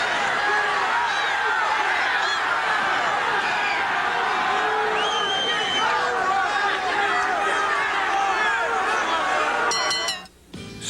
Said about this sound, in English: Here's the crowd trying to get behind their hometown favorite